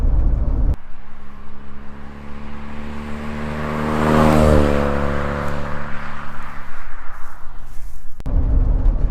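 A 1983 Volkswagen Golf GTI Mark 1 accelerating hard from inside the cabin, the engine note rising to a loud, buzzy peak and easing off again, steady road roar around it and no talking.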